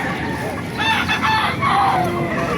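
Chickens and roosters, including Talisay and Hatch gray gamefowl, cluck and crow at the Baliuag tyangge market, heard close and loud against busy background noise.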